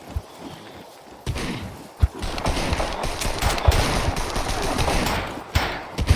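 Rapid gunfire in the video game Scum, bursts of sharp shots with repeated cracks and impacts, loud and close, over a busy rumbling game background.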